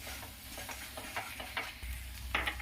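A teaspoon each of Kashmiri red chili and coriander roasts in a pan, a quiet close sizzle broken by soft, irregular stirring scrapes.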